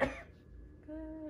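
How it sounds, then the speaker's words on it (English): A patient gives one short, sharp cough during a 4D ultrasound, close and clear, followed by a faint tonal sound. "I'm gonna have you cough."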